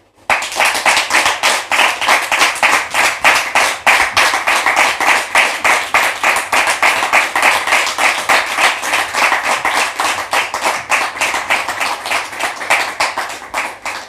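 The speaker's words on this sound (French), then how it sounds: "Public, merci de la recevoir sous vos applaudissements," A studio audience on a French television talk show applauds a guest as she arrives, loud, close and rhythmic, with sharp claps falling into a fairly regular beat that continues without pause.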